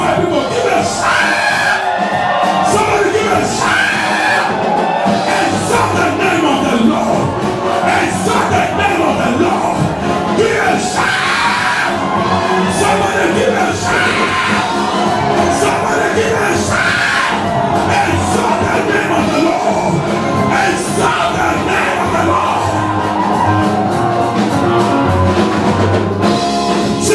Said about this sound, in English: Drag five people, give a shout.